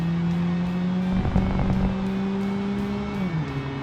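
A simulated car engine in the BeamNG driving game, a 1990 budget family car, holds a steady high drone at full throttle with a brief tire squeal midway, then the pitch drops slightly as it shifts.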